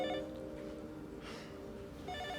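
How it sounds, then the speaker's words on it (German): A telephone ringing in a German soap opera scene, a tonal electronic ring at the start and again at the end, moderately loud in a quiet room with no talking over it. "Telefon."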